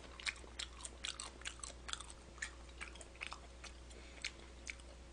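Quiet close-up chewing of raw mullet sashimi with soy sauce and wasabi, soft wet bites and mouth sounds in an irregular rhythm over low background hum.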